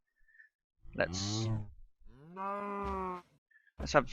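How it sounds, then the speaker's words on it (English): Minecraft cows give two long, loud moos close by, separated by a brief pause, then a third moo begins just before the end, with faint clicks in the quiet gaps. "So we've got some cows there"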